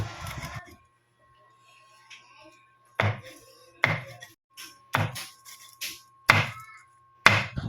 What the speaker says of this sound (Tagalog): So yan, tapos na tayo nagtadtad.